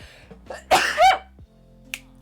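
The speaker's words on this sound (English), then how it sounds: "I'm gonna sneeze probably." A single sneeze bursts out mid-game, a sharp loud inhale-and-expulsion near the microphone, followed by quiet background with a faint click.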